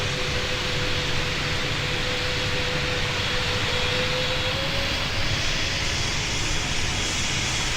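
An Emirates airliner makes a low approach in the game Pilot Training Flight Simulator, a loud, sustained jet-engine roar with a faint whining tone that holds steady and close, with no voices.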